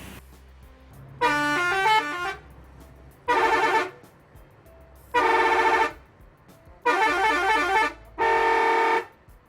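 Five loud, bright melodic telolet air-horn blasts from a bus ring out one after another, each a multi-note musical toot lasting about a second, with idling engine rumble between.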